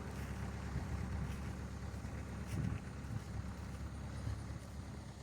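An International Harvester 384 diesel tractor engine idles steadily in a farm setting, a low, rumbling chug that runs continuously with slight surges, fairly close and without any talking.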